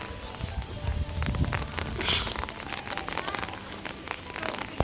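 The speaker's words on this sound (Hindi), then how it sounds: "और यहाँ हो रही बारिश बहुत।" Heavy rain pours down outdoors in a steady, dense patter that fills the whole stretch, with a few sharper drops and splashes standing out and no voices.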